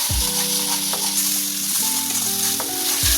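Mustard seed, poppy seed and green chilli paste sizzles in a pan for a rohu fish curry. The fry is loud and steady, with a faint humming tone and occasional stirring knocks underneath.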